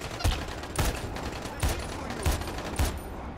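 Gunfire in the video game Dying Light, five bursts of shots at an uneven rhythm, loud and close.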